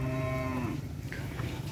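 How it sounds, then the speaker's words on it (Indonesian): Cattle brought in pairs for a team practice at a field give a loud, close moo lasting under a second, followed by steady outdoor rumble and faint stirring. "Ini sapinya teman-teman."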